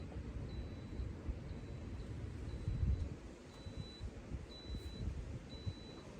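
A thin electronic beep repeats at a steady pace, about once a second, over a loud low rumbling pump or blower noise from a Coleman SaluSpa inflatable hot tub showing error code E02.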